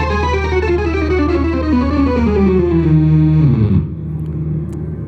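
Nord Organ 3 played with heavy overdrive, a loud, sustained distorted chord with a sliding, descending line that cuts off near the end, leaving a big cathedral-style reverb tail ringing alone.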